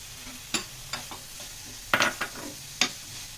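Boiled carrots and beans stirred into an onion-tomato masala in a pan, heard as a few scattered scrapes and soft sizzles, with one louder scraping burst near the middle, and no talking.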